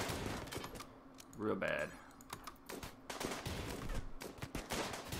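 Turret gunfire in the colony game Rimworld, rapid bursts of clattering shots through the clip with someone talking briefly over the action.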